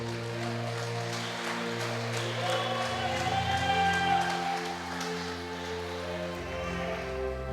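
A church congregation claps in praise during a Portuguese-language sermon, producing a steady, dense wash of applause over sustained organ or keyboard tones, fairly loud and even throughout.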